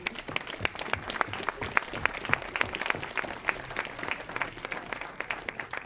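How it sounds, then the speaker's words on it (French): A crowd at a Nuits du Sud gathering applauds teachers and students, dense steady clapping sustained for several seconds with a faint voice underneath. "je crois qu'on peut vous applaudir."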